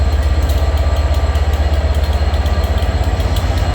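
Special train rolling through Stockport Station, a loud, steady rumble with a pulsing low beat from the engine and wheels that holds without break, and no voices over it.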